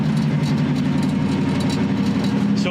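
An 800-horsepower Hellcat-engined Cuda rumbles steadily as it rolls down a street, a deep, loud, even engine drone with constant low-end thrum throughout.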